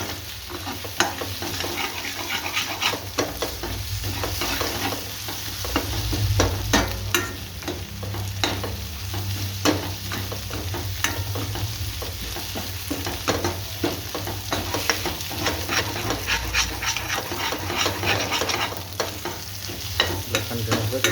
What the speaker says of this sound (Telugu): ఇలా కంటిన్యూస్గా కలపాలి.